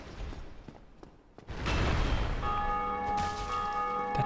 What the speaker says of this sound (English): That church bell's really loud.